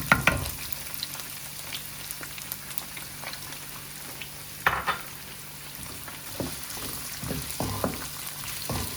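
Chicken and chopped onion fry in a pan for Chicken Manchurian, a continuous close sizzle broken by scraping stirs and small spits, with no talking.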